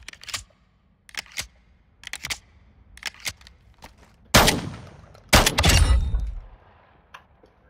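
Several sharp gunshots from a mounted weapon in the video game Call of Duty: Modern Warfare 2, fired singly with short gaps, then two louder, longer blasts with a trailing rumble near the end.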